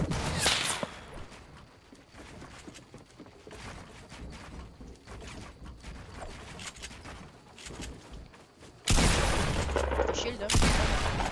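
Gunfire crackles in a Fortnite match, scattered sharp shots under ongoing background game noise, ending in a louder dense burst near the end.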